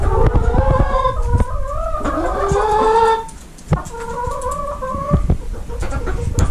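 Hens in a winter coop kept in an old horse stall cluck and squawk close by, with long rising calls and drawn-out cackles over a steady background of softer clucking and shuffling.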